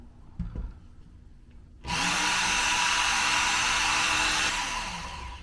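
Work Sharp electric knife sharpener starting up after a quiet moment, then a loud steady motor whir that holds and tapers slightly toward the end.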